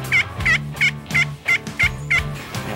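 A wild turkey gobbles in a rapid series of about eight loud, close, evenly spaced bursts over a low background drone.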